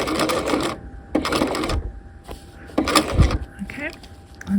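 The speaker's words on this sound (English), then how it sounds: "So just going to place that into the machine. Okay, so do a lock stitch there." Sewing machine doing a lock stitch on a half-scale jacket facing, short loud bursts of rapid mechanical stitching separated by pauses, with a few clicks and a brief voice between runs.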